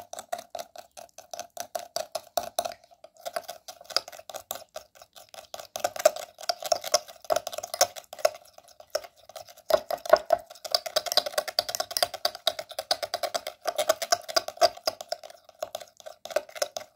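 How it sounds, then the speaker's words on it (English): Ingredients for an eyebrow and eyelash growth cream are stirred together into a paste, giving a steady run of quick, light clicking and scraping taps close by, with no talking. "Now we need to mix the ingredients very well."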